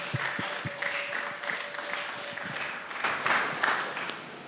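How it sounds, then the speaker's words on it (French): A church congregation claps to acclaim the Lord as a speaker comes forward, a steady wash of applause at moderate distance, with faint voices underneath. "quand il vient, nous acclamons le Seigneur. Acclamons le Seigneur."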